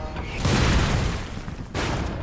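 200 mm artillery guns fire at a stone fortress from about 1.5 km away: two deep, heavy booms, the first swelling and rolling on, the second sharp and close behind it, with no voices.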